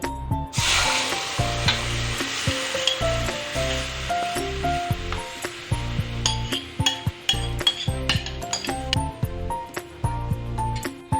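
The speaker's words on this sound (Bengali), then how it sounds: "আমি দইয়ের সাথে যে ইলিশ মাছগুলো ভিজিয়ে রেখেছি সেগুলো আমি ঢেলে দিব।" Yogurt-marinated hilsa fish frying in mustard oil in a wok, a loud burst of sizzle as it hits the oil, then steady crackling broken by repeated clinks and scrapes of a spatula against the pan.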